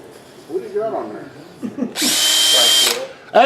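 A voice talks briefly before a bent drill driving a flexible-hose sander whirs up for about a second inside an antique turned pepper mill, a close, bright, wobbling hum that cuts off sharply.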